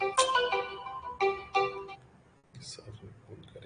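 A phone ringtone plays loudly in repeated melodic bursts during a class lesson, then cuts off as a teacher's voice continues speaking.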